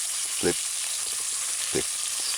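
An egg fries in a pan for a Jamaican ham and egg sandwich, giving a steady broadband sizzle throughout with a couple of brief low thumps, close and moderately loud.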